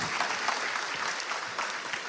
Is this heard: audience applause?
yes